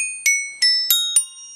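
A glockenspiel is struck four times in slow succession, each hit ringing with a bright, high, piercing bell-like tone that rings on between strikes, clear and alone.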